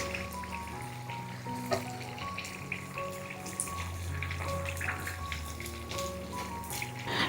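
Chicken spring rolls deep-frying in hot oil until golden, a busy bubbling sizzle mixed with watery splashing and scattered clinks, while a steady tonal hum runs underneath.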